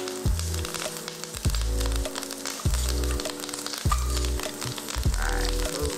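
Kale and smoked turkey sautéing in a hot pan, a steady close sizzle with repeated low thumping pulses roughly every second and a half, no voices.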